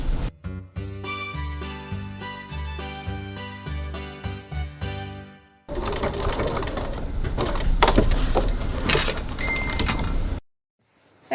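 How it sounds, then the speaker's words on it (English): A sewing machine stitching down a seam and back-stitching, a loud close mechanical whir that runs in short bursts and then in one longer continuous run, ending abruptly in silence. "I'm just going to stitch down to the bottom. Back stitch there."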